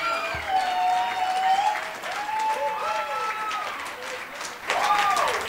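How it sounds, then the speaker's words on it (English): Audience at an academic pride awards program applauds steadily, a sustained wash of many hands clapping with cheering and whooping voices rising over it, swelling again near the end. "So everyone, give a big round of applause for Jack Hesluff."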